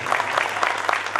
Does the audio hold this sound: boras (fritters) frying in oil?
no